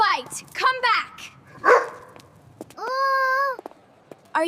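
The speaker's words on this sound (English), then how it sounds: "The dog will bite us." A dog gives a few short barks and yips between excited children's voices, with one longer whining bark near the end.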